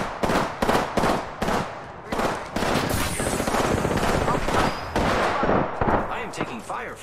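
Gunfire in the battle royale game Apex Legends, sharp shot bursts and sustained automatic fire, close and loud, with game voice lines and a player talking over it.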